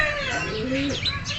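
Pet birds with a one-eye cold cooing in soft, rolling, close-up calls, a short low throaty coo sequence over a steady background hiss.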